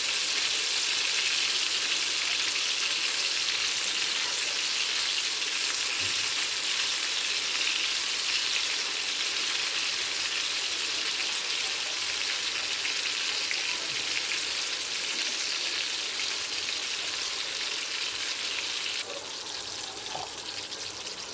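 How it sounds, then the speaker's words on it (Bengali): Kofta balls frying in hot oil, a continuous loud, even sizzle and crackle that runs unbroken for the whole stretch and eases slightly near the end. "আমি উল্টে তেলটা এই কোপ্তাগুলো ভেজে নেবো ভালো করে"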